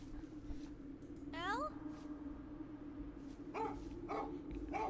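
Dog barks and yips ring out inside a horror video game, several short sharp calls over a steady hum of game ambience, with someone talking over them at times.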